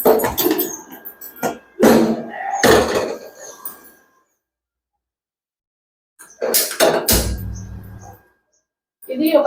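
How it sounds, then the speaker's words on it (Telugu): A pressure cooker lid is set onto the cooker for mango dal, heard as a few sharp metallic clunks and knocks in separate bursts, with quiet gaps between them. "కుక్కర్ మూత పెట్టుకుని"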